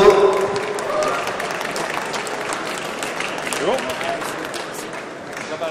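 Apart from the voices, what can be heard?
audience applause at cap ceremony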